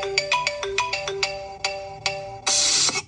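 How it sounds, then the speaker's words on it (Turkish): An iPhone ringtone rings on a customer's phone during an iPhone 15 Pro Max screen replacement: a bright melodic chime pattern of repeated tonal notes, loud and close, with no talking. "Evet, müşterimizin cihazı da çalıyor."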